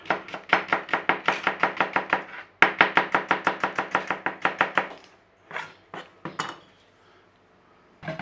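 A knife chops vegetables on a board for a wartime Woolton pie, beating out two quick, steady runs of close, crisp strokes. A few scattered clinks and scrapes of the kitchen follow.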